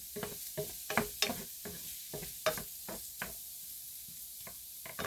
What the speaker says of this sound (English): So I just stir that around with a tablespoon of butter.